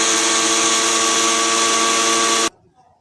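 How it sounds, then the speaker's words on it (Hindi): A loud, steady whirring of a mixer grinder running at full speed as it coarsely grinds roasted spices, then abruptly stopping, leaving near silence. "इनको हम मिक्सी में डाल के बिल्कुल दरदरा सा पीसेंगे।"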